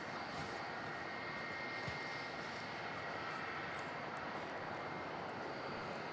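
A Turkish Airlines jet takes off from Melbourne Airport. Its engines make a steady, broad roar that holds at a distant, moderate level for the whole stretch.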